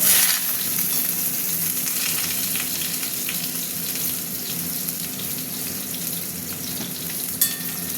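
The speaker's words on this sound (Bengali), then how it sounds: "তেল গরম হতে থাক, সবজিগুলো দিয়ে দিচ্ছি।" Vegetables frying in hot oil for khichuri give a steady, loud sizzle for the whole stretch, with one brief sharper clatter near the end and no talking.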